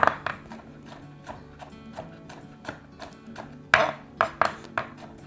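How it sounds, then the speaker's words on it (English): A kitchen knife chops three garlic cloves finely on a cutting board, giving a series of crisp, close taps at a quick, uneven rhythm, with a brisk flurry of harder chops near the end. "I'm just gonna cut up 3 cloves here"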